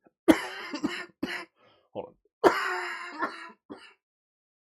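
Several harsh coughs from a lingering post-COVID cough come in two bursts close to the mic, with a voice briefly saying something in between.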